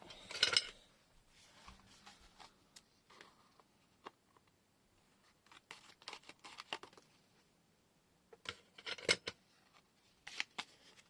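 Scissors snip and crinkle through packaging in quiet bursts, with rustling and small ticks between cuts; no talking.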